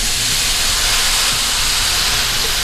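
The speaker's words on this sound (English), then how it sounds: "I'm gonna deglaze the pan with some white wine" Hot pan just used to render guanciale being deglazed with white wine, a loud, steady, close hiss of sizzling liquid and steam that holds without pause.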